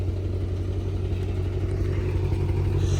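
A Shelby GT500 engine idles and revs in the street for a tow truck driver who pulled up, a steady deep rumble close by and alone, with no talking.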